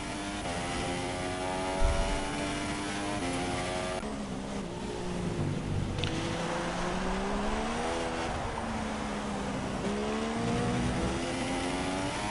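A Formula 1 car on a flying qualifying lap in a racing game at Brazil, a Force India car, its high-pitched engine rising and falling through gear changes, steady and loud throughout.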